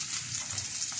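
Beef cubes frying in a pan for kare-kare give off a steady, continuous sizzle with a soft crackle, fairly close and even throughout, with no talking.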